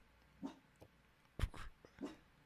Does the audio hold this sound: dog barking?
yes